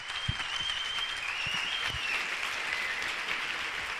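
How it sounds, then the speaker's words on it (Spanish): Audience applause breaks out for a speaker at a charity conference, steady dense clapping from a mid-sized crowd sustained evenly throughout with no talking over it. "Un aplauso para él, por favor."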